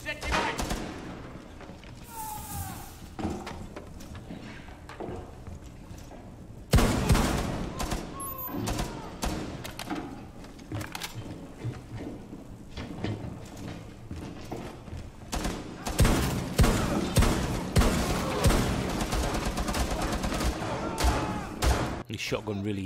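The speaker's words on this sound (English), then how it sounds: "Shotgun really is effective up close." Video game combat in Horde mode, with repeated shotgun blasts and other gunfire sounding as loud bursts over a busy battle mix, while a voice talks over much of it.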